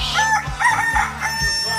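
A rooster crows loudly and close, a harmonic cock-a-doodle-doo repeated in quick succession, with low thumping beats underneath as a sound effect.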